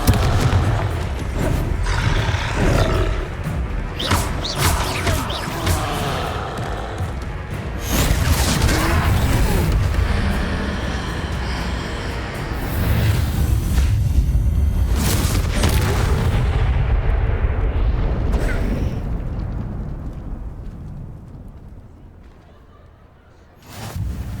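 Booming fiery blasts of the Confringo explosion spell cast during a troll fight in Hogwarts Legacy, a long rumbling series of heavy crashes and impacts, loud and dense before fading out.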